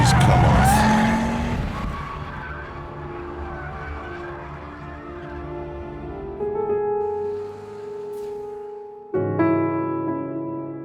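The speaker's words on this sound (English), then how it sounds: "behind the noise and the power and the massively flared wheel arches, this is still a Ford Focus." A Ford Focus RS with flared wheel arches drives on a track, its engine roaring loudly at first, then fading into a sustained tonal drone with sharp rises in pitch as gears change.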